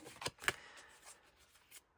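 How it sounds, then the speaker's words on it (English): A deck of glossy oracle cards shuffled by hand: a few quick, soft riffling and sliding bursts close by, the sharpest near the start, then quieter rubbing in an otherwise hushed room. "And it shuffles, you know, the same as any of our rock pool decks"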